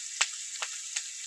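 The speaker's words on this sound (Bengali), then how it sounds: "এবার আমি মাথাগুলো ভেজে নেব।" Katla fish heads fry in hot oil, giving a steady high hiss with three brief spattering pops, close by and with no talking.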